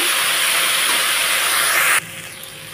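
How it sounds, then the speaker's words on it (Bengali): Vegetarian chorchori vegetables fry in a pan, making a loud, even sizzling hiss for about two seconds that then drops to a much quieter background sizzle. "এটাকে আমি সুন্দর করে লাল লাল করে একটু ভাজা ভাজা করে নিচ্ছি"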